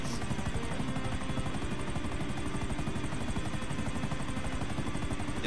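Helicopter rotors chop in a fast, steady rhythm in GTA Online, loud and close throughout with no speech over them.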